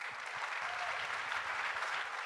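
An audience claps in a short, even burst of applause, moderately distant and sustained throughout with no talking over it.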